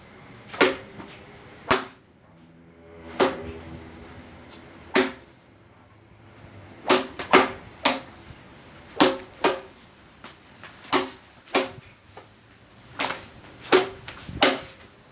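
Sharp, loud impacts from a monkey fist knot weapon on an elastic cord striking a surface, roughly a dozen separate cracks at irregular intervals, each alone with quiet between.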